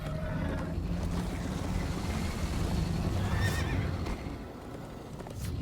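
A horse in Minecraft: Story Mode whinnies amid galloping hooves and rushing wind, loud and close, with a brief lull near the end.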